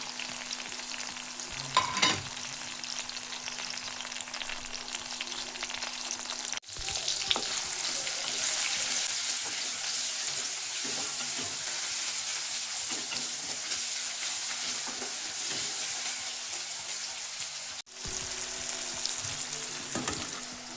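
Garlic and green chilies frying in a hot pan for a Kannada dill-leaf palya, a loud, steady sizzle lasting throughout with a few stirring clatters and brief breaks, no voices.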